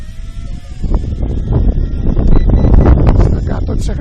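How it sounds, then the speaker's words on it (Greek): Strong outdoor wind buffets the microphone during a drone flight, a loud continuous low roar and rumble that swells slightly midway and never lets up. "Δυνατός ο αέρας."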